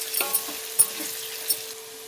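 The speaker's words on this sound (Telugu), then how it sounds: "బాగా కలుపుకోవాలి" A spoon stirs brinjal, potato and tomato curry in a hot pan, with a light sizzle underneath and three distinct scraping knocks in quick succession, close and fairly loud.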